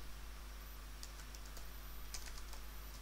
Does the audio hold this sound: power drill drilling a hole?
no